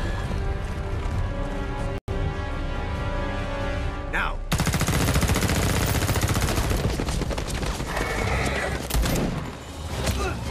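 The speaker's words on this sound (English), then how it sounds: "It's Quan Chi and his horses." Quan Chi's horses in the Mortal Kombat X video game, loud whinnying and neighing with a brief cutoff, then a dense burst of clattering noise and more neighs toward the end.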